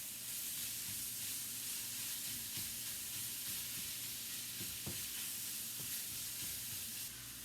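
Sausage and bacon frying in a pan for a low-carb breakfast casserole, a steady close sizzle and hiss with occasional small pops, continuous with no talking.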